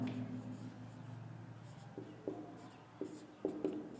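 A pen writes the country name Bhutan onto a world map, a faint scratchy scribble with a few light taps and strokes toward the end, quiet and close.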